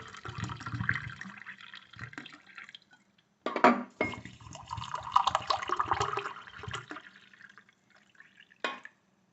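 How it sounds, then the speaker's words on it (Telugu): Water pours into a glass holding fenugreek seeds, a steady liquid fill with a brief pause and a short final splash, close and moderately loud with no talking. "ఈ గ్లాసుని నింపేయండి."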